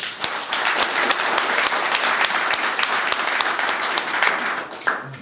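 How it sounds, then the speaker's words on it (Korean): Loud, dense audience applause welcomes panelists at a Korean political debate forum on conservative values and the Hannara Party emergency committee, sustained for several seconds before a brief voice near the end. "박수로 환영해 주십시오."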